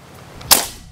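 A single sharp shot from a Predator Mini OD 38 PCP air rifle cracks out, close and loud, with a quick fading tail.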